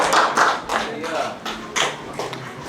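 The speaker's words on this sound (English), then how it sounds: "give a round of applause." A small audience at a spoken-word writing session gives a round of applause, a handful of separate, close claps in an uneven rhythm that swell and fade in short bursts.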